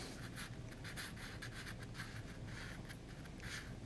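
Slightly harder pastels rough in a sketch on paper, making a soft, continuous scratchy rasp of strokes. The sound is faint and close.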